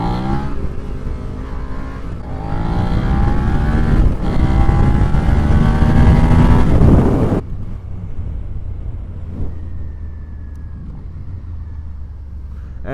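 A motorcycle revs hard and accelerates through a wheelie, its engine roar loud and rising with heavy wind rush, then cuts to a quieter steady engine drone with wind noise for the remaining seconds.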